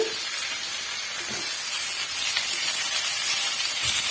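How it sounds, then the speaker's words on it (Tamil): Radish pieces frying in a pan for chutney give off a steady, fairly loud hiss and sizzle that holds without a break throughout. "முள்ளங்கி இது போல் சேர்த்துட்டு நல்லா வறுத்துட்டு"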